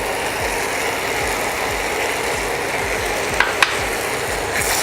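Red sauce pasta being stirred in a pan, giving a steady close scraping and sizzling texture with repeated rhythmic strokes and a couple of brief sharp clinks near the end.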